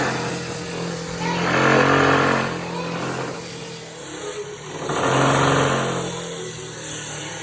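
Volvo 850 engine breathing through a new exhaust built from scrap parts, revved twice in two rising swells that settle back to a steady idle between them, with people talking nearby.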